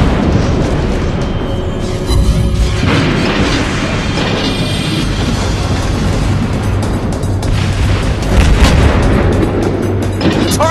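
Naval gunfire and shells hitting a target in the World of Warships Blitz video game, a dense run of loud booming blasts and rumbling explosions over steady engine noise, near and continuous.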